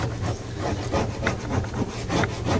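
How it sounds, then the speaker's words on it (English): Ruler rubbed firmly in short strokes over folded paper with crayon inside, a steady scratchy rasping with repeated back-and-forth pulses, close and continuous with no talking. "using a ruler, you're going to rub"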